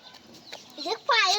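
A 10 kg broiler rooster on a Bangladeshi poultry farm gives short clucking calls that rise into a louder, drawn-out crowing burst near the end, heard close and alone against a low background.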